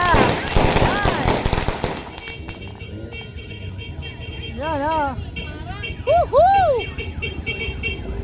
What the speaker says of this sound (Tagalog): Dami putok. Ang dami ring usok.